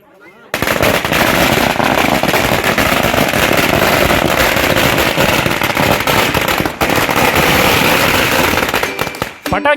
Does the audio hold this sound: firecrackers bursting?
yes